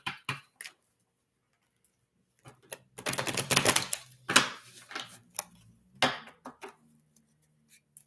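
Brand-new tarot deck being shuffled by hand, a few quick crisp card riffles and slaps in short bursts with a denser flurry in the middle, close and fairly quiet with gaps between.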